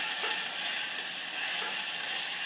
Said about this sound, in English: so it's toasting everything very, very quickly